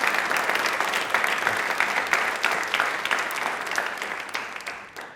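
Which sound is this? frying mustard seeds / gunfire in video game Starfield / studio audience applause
studio audience applause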